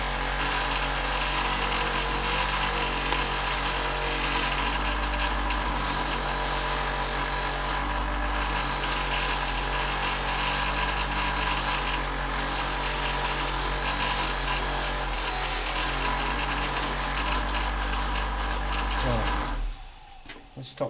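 A general-purpose polishing mop spins on a buffing machine during a motorcycle restoration, giving a steady, loud mechanical whir with a rubbing drone that holds throughout before cutting off near the end.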